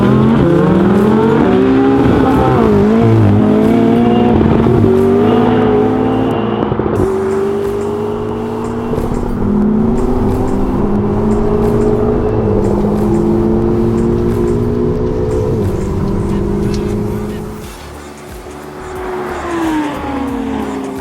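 An Audi R8 V10 Plus and a McLaren 600LT accelerating hard down a drag strip: loud, close engines climbing through gear after gear with rising pitch, then easing off near the end.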